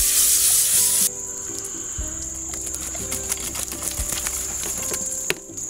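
Water rinsing a large Newfoundland dog named Jasper on a grooming table: a loud hissing spray at first, then a softer steady trickle and patter with occasional small knocks, close by.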